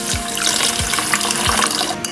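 Water pours steadily into a pan of sugar in a continuous splashing stream, close and fairly loud, with a bubbling, filling quality.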